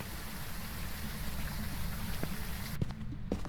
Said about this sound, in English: we got heavy rain, so I can't light my candle